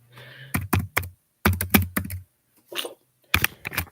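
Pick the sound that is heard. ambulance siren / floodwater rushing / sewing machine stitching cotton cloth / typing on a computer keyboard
typing on a computer keyboard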